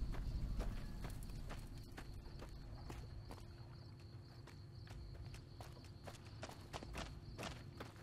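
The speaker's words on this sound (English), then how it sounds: "Which one of you has the noisy footsteps?" Footsteps in Fallout New Vegas clack in a steady, evenly spaced rhythm, close and fairly crisp over a low ambient hum, with no one speaking.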